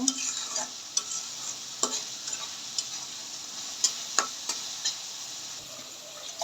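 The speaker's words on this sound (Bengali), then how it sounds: "মশলাটা একটু কষিয়ে নিব" Spice paste for a sea mola fish curry stirred and fried in a pan, a steady soft sizzle with scattered sharp scrapes of the spatula against the pan.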